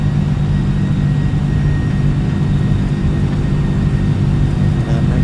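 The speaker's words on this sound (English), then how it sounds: "And listen to those engines." Simulated MD-11 jet engines at takeoff thrust in Microsoft Flight Simulator 2020 give a loud, continuous low roar with a faint high whine, heard alone with no voices.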